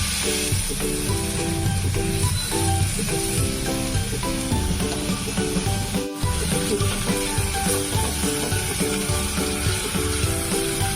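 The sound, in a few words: coconut paste being sautéed and stirred in a hot pan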